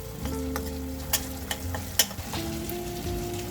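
Spices for matar paneer fry in a pan, a steady close sizzle broken by a few sharp clinks of a stirring spoon against the metal.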